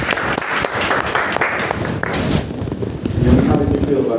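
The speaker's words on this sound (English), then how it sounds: "let's give a big round of applause for the teachers." An audience applauds teachers in a classroom or school event, a fairly loud burst of steady clapping from many hands, with voices talking over and under it throughout.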